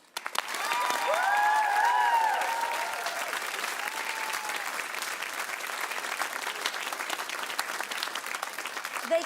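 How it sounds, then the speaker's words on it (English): Audience applause at a Strictly Come Surrey dance event, a full room clapping steadily and loudly for the whole stretch, with a few whoops and cheers early on. "Please give them a huge round of applause."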